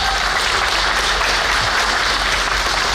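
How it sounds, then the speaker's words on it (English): A round of applause from the audience at an outdoor Hmong festival in Wausau; thick, steady clapping from a crowd, loud and continuous across the short stretch. "John, would you stand up and take a round of applause?"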